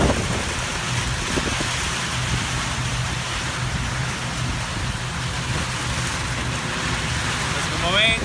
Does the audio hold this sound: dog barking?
no